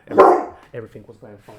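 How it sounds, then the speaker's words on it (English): One sharp, loud dog bark sounds close by, followed by a person speaking indoors. "Sorry, that's my dog."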